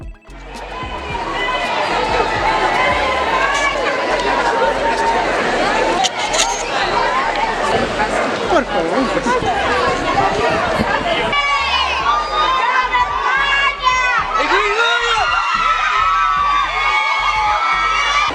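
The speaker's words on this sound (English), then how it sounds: "The King of Spain is here, and the crowds have gathered." A large street crowd in Cuenca, Ecuador, gathered for the King of Spain, keeps up loud continuous cheering, whooping and chatter with children shouting, sustained and close throughout.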